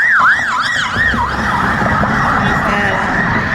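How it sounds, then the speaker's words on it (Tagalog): An ambulance siren wailing in rising and falling sweeps on a crowded street in the Philippines, loud and close, over traffic and general street noise. "Ay, ambulansya."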